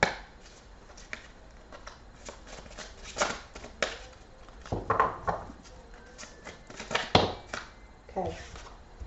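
Tarot cards being gathered and shuffled by hand, soft riffling and tapping bursts at close range, with quiet intermittent talking over them.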